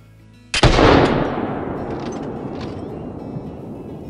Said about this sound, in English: We are going to try out the 45-70 on him, see if we can't maybe get a heart shot.